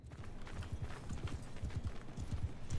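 Horse hooves clop in the Bannerlord video game, quick irregular pairs of dull thuds from galloping mounts, fairly faint and steady throughout.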